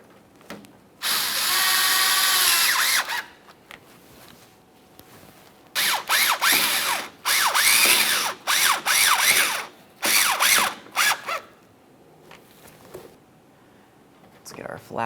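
A power tool snugs a pair of bolts on a GMC Acadia radiator during a 2017-2024 radiator replacement, running in several loud whirring bursts of varying length separated by pauses; a voice speaks briefly between them.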